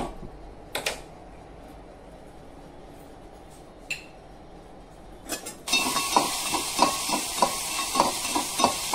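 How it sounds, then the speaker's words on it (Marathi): Raisins drop into a small amount of hot ghee and burst into close, crackling frying with rhythmic stirring taps, after quieter scattered clinks and a near-silent pause. "थोड्याशा तुपामध्ये ना मी मनुके फ्राय करून घेणार आहे"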